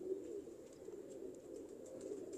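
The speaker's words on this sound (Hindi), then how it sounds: "हुण कबूतरां दी सुन लो लोकां नूं" Sanduri Palak breed pigeons coo steadily in low, throaty rolls, several birds overlapping in a continuous murmur with faint background noise.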